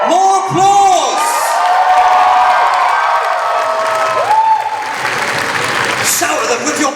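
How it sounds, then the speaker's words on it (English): An audience at a Kitacon convention awards ceremony keeps clapping and cheering in a steady crowd roar, with shouts and whoops breaking through near the start and again midway. "More applause!"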